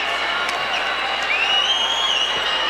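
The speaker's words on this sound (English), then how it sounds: "And the crowd roars" A large arena crowd at a UFC fight keeps up a steady roar with scattered applause and cheers, dense and continuous throughout.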